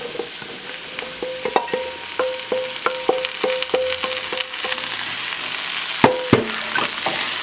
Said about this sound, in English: So now I am going to add my chopped okra